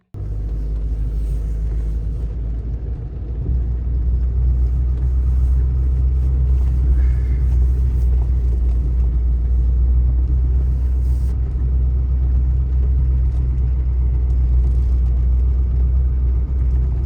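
A car running on the road, a steady low engine rumble that stays loud and constant from start to finish, with no voices.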